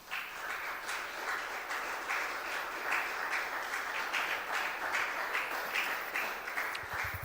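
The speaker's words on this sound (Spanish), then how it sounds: "Denle un aplauso al Señor" A church congregation applauds the Lord during a sermon; soft, steady clapping from a crowd, fairly distant and even, with no voices over it.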